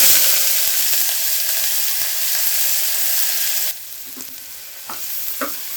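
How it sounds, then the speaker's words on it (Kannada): Chopped onions with cinnamon, cloves and cardamom fry in hot oil for a village-style mutton gravy, a loud bright sizzle with sharp ticks that drops suddenly to a softer crackle and occasional spoon clinks. "ಇವಾಗ ಈರುಳ್ಳಿ ಹಾಕ್ಕೊಳ್ತಾ ಇದ್ದೀನಿ ಮೊದಲಿಗೆ."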